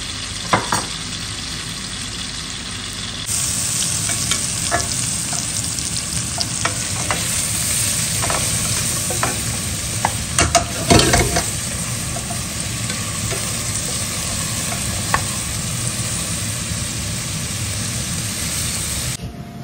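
A lot of garlic frying in butter gives a steady, loud sizzle with scattered pops and crackles and occasional stirring clatter.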